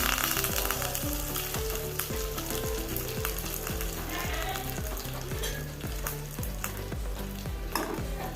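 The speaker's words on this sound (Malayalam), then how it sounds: "അര ടീസ്പൂൺ കടുക് ഇട്ട് കൊടുത്ത് കടുക് കൂട്ടി കുറച്ച് കരിവേപ്പിലയും രണ്ട് വറ്റൽ മുളകും കൂടി ഇട്ട് കൊടുത്ത്" Steady, dense sizzling and crackling of mustard seeds, curry leaves and dried red chillies frying in hot oil for dosa batter tempering, loud and close, with rhythmic stirring scrapes throughout.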